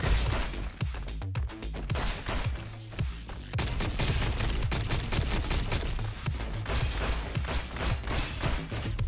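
Rapid bursts of gunfire in the first-person shooter video game Roboquest, with dense overlapping shots and brief gaps, loud and close throughout.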